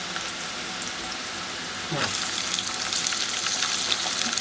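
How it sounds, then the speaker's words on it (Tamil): Fennel seeds, cinnamon and onion sizzle steadily in a hot pan while cooking tomato pongal. A loud splash of fresh ingredients midway makes the frying flare up into a denser crackle. "சோம்பு, பட்டை, வெங்காயம் நல்லா வதக்கணும்."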